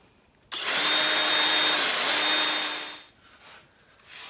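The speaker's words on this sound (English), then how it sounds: "All right, away we go with the Forstner bit." A power drill fitted with a Forstner bit bores into a wooden tabletop, a steady loud whine lasting about two and a half seconds before winding down, then faint workshop noises.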